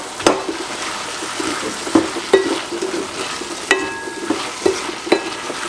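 A vegetarian mixture with black pepper is stirred in a frying pan: steady sizzling with sharp, irregular scrapes and knocks of the utensil against the pan, close and fairly loud, with no talk.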